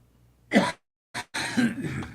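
A few close, throaty coughs or throat-clearing sounds, a short burst followed by a brief one and a longer rasping rattle.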